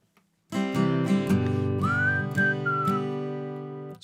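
A whistle played in a live-streamed song performance, with sustained tones over a steady drone-like accompaniment, starting abruptly and holding loud and near before fading slightly toward the end.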